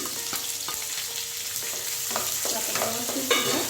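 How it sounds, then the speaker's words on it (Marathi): Finely chopped onion sizzles steadily in a pan while a spatula stirs it in repeated scraping strokes, close and alone. "आपण फ्राय करून घेऊया आता थोडासा कांदा फ्राय झालेला आहे"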